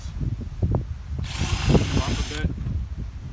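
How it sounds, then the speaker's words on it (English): A power drill with a spade bit drills holes in a post for a cable rail install, whining for about a second amid bumps and knocks, with someone talking. "Okay, and finish drilling those holes"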